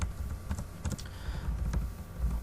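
Rapid typing on a computer keyboard, with dense irregular key clicks and a few sharper strokes running close and steady throughout, no voices.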